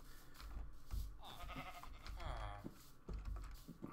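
Sheep bleat in a Minecraft village pen with a water trough, a couple of wavering bleats over quiet game ambience, with a voice talking faintly in the background.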